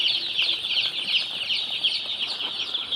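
Young tiger chicken chicks, two days old, crowd a brooding shed in Khulna, filling the air with a continuous, dense chorus of high-pitched peeping from many birds close by.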